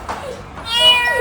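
A tuxedo cat meows, with one drawn-out, rising-then-falling call heard up close.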